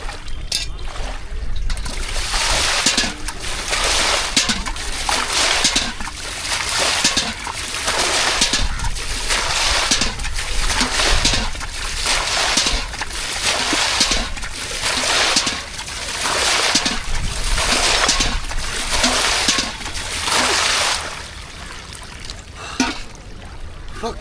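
Water splashing and sloshing while irrigating a field, in regular repeated surges about once a second, loud and close, with no talk.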